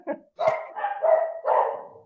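A dog barks in several short, loud bursts close by, with brief gaps between the yaps and no talk over them.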